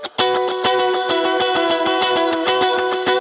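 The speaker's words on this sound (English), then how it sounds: "dotted eighth delay patterns, lots of reverb, volume swells." Electric guitar notes ring out in a steady pulse, each repeated by a rhythmic dotted-eighth delay and washed in reverb, sustained and fairly loud throughout.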